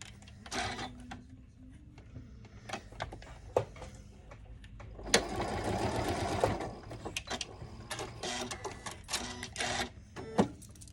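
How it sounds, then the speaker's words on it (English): A sewing machine stitches a seam on a quilt block in short, rapid bursts, with one longer run of stitching in the middle and brief pauses and small clicks between runs, close and fairly quiet. "I'm gonna sew again on the line in between C1 and C2"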